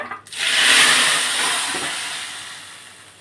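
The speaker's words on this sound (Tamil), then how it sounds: "இந்த மாதிரி நல்லா கொதிக்க விடுங்க" A loud sizzling hiss erupts suddenly and then slowly fades as chicken gravy is poured into a hot pot and bubbles, with no voices.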